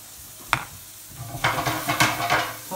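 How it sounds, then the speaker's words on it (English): Vegetables for honey chilli chicken, tossed with sesame oil, stirred in a pan: a sharp utensil knock, then a run of scraping stirs over a soft sizzle, close and moderately loud. "You can give it a wee stir then."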